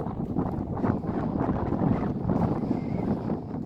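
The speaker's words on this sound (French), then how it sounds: "Je vous reprends après quand il y aura moins de vent." Gusty wind buffets the microphone, producing a continuous low rumbling roar that swells and dips over a few seconds.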